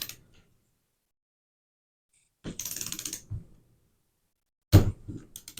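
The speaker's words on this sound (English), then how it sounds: "he's just going to torque these down" Torque wrench tightening cam gear bolts on a Toyota 2JZ VVTi engine set to 10 foot-pounds, heard as two bursts of close mechanical ratcheting clicks separated by silence, the second sharper and ending in a click.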